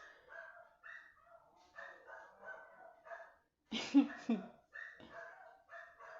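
Several dogs barking in an alley, a brief loud cluster of barks breaking in between stretches of someone talking.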